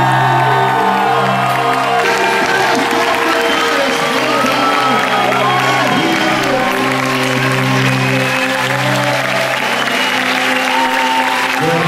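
A large convention crowd at Comic Con in Montréal cheers and applauds loudly and steadily, with sustained whoops and shouts and a sung or held voice riding over the roar.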